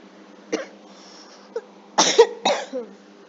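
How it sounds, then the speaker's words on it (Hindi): A woman coughs in a short series of dry, close coughs, with a throat-clearing sound among them, in a quiet room. "बाप रे ये खांसी"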